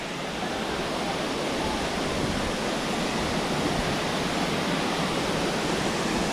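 A hidden waterfall at Talwade in the Konkan, Ratnagiri, a constant broad roar of falling water, steady and loud, filling the whole stretch without letup.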